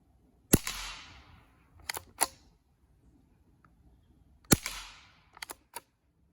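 Rimfire rifle shots fired at a target, two sharp, fairly quiet cracks about four seconds apart, each followed by a few light mechanical clicks and rattles in a quiet setting.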